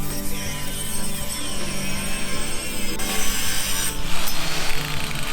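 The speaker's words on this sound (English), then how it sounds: "I'm going to try my best to scrape it off, but it's pretty much on there." Galvanized coating is scraped off a steel railroad spike, a continuous harsh rasping and grinding up close, steady with slight surges toward the end.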